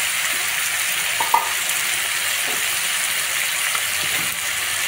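Brinjal pieces with tomatoes sizzle steadily in a pan for a Telugu curry, a constant loud frying hiss with a few faint scrapes of stirring.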